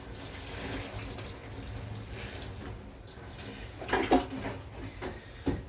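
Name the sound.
watering cucumber seedlings in a tray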